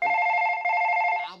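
A telephone rings for an incoming call, a loud, steady electronic tone with a fast warble, running continuously with one brief dip before it cuts off.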